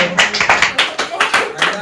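A small group claps after singing happy birthday, a short burst of about a dozen quick hand claps close by, with a voice speaking over it.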